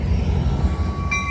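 An Amtrak Capitol Corridor train arrives at Oakland Jack London Square station, giving a steady low rumble with thin high wheel squeal tones, heard close and brief with no talking.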